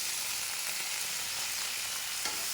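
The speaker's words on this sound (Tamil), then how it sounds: "நல்லா வதக்கிக்கிறேன்." Guava chutney ingredients sautéing with salt in a pan, a soft, even, continuous sizzle heard close with faint occasional stirring and no speech.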